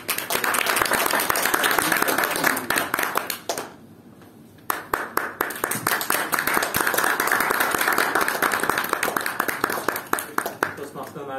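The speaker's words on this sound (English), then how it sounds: "hands up, round of applause for everyone" A Toastmasters meeting of the Brunei Speakers Club breaks into a round of applause. Steady clapping from the room runs on, pauses briefly, then resumes just as full.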